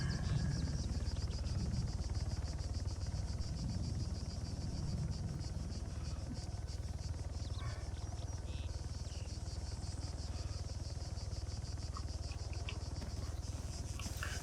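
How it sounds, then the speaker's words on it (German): A helicopter in Arma 3 runs as a steady, loud, whirring drone that stays constant and close for the whole stretch, with occasional faint clicks and background noise layered on top. "Board die Helikopter."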